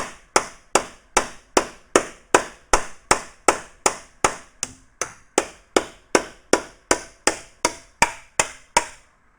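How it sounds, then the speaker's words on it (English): Steady, evenly spaced hammer blows shape a steel Willys Jeep front panel over a hammer form, about two sharp metallic strikes per second, close and loud with no talking. "you'll start to hear it hit solid on the hammer form underneath"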